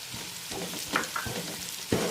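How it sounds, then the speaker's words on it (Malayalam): Onions and curry leaves frying in oil for a Kerala-style beef fry, a close steady sizzle broken by several scraping stirs of a spoon in the pan. "ഇത് നല്ലപോലെ ഇളക്കി കൊടുക്കാം അതിലേക്ക് കരിയാപ്പില ഇടുകയാണ് കുറച്ച്"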